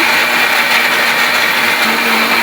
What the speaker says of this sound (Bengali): পেঁয়াজ রসুনটা মিক্সিতে বেটে নিচ্ছি।